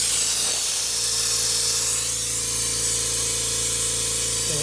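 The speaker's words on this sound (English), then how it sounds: "just a constant flow of fluid" Brake fluid flows steadily from the bleeder valve of a 4th Gen 4Runner during a brake job, a continuous close hiss over a low, even hum, with no talk.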